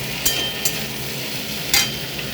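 Malabar spinach and fish head fry in a pan as ginger paste is added, giving a steady soft sizzle broken by a few brief stirring scrapes.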